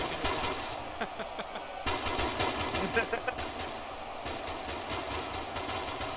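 Rapid bursts of gunfire from the video game Ultimate Epic Battle Simulator II crackle in a dense battle, with overlapping shots and steady rattling volleys running throughout, partly under talk.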